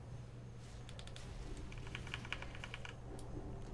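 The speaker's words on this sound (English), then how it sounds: "I like my keyboard so much more loud when I play WoW" Keyboard typing during a World of Warcraft PvP session, a quiet run of clicky keystrokes that thickens into a quick burst near the middle, set against a steady low background hum.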